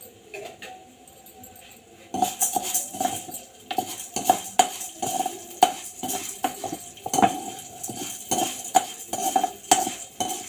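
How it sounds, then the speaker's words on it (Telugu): Spoon scraping and tapping against a cooking pan as urad dal goes in, a run of close metallic clinks and scrapes over faint background hiss. "ఈ పెద్ద స్పూన్ ఒకటి మినపప్పు వేసుకుందామండి."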